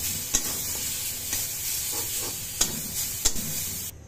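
Peanuts fry in mustard oil and are stirred for a bhorta, with a steady sizzle and several sharp scraping clicks of the spoon against the pan, close up and alone.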